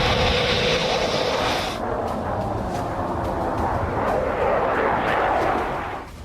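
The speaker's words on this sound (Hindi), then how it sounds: "हवा में लहराते और गरजते हिंदुस्तान के फाइटर जेट" Indian Air Force fighter jets such as Sukhoi, Rafale and Jaguar fly over the Ganga Expressway, a loud, sustained roaring jet-engine rush that holds steady for several seconds before fading at the end.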